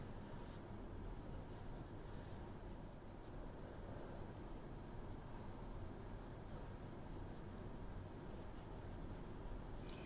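Graphite pencil darkening the lines of a drawing of frayed fabric, a steady close scratching and rubbing that continues for the whole stretch without pause.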